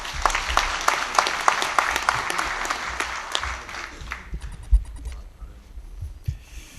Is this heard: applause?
yes